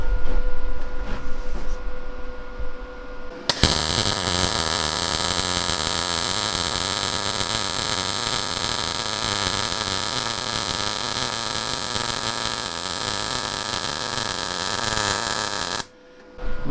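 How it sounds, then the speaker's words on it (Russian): A General MIG 200 semi-automatic welder runs a continuous seam on steel profile tube, giving a loud, steady crackling buzz that starts abruptly, holds for about twelve seconds and then cuts off. "Сделаем шовчик на профильной трубе"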